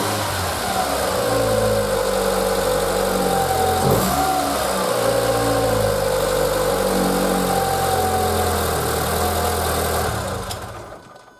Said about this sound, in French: je vais d'abord vous faire un démarrage à froid pour que vous écoutiez le son du moteur